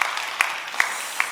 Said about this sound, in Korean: 여러분 박수 한번 해주시면 고맙겠습니다